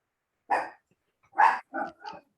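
A dog barks: one bark, a pause, then three quick barks in a row, close and clear in a quiet room.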